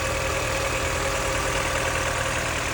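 A 2013 Mini Cooper 1.6 petrol engine idles cold, steady with a low, even rumble and a faint rhythmic ticking, close by and unchanging, with no talking.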